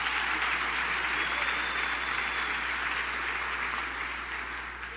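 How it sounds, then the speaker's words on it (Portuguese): Sustained applause from a church congregation, a dense, steady wash of clapping that holds for about five seconds and fades slightly toward the end. "Dê uma salva de palmas ao Senhor."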